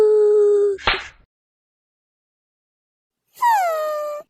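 An animated cartoon cat meows loudly twice with a long silence between, the first call ending in a breathy hiss, the second a drawn-out falling wail.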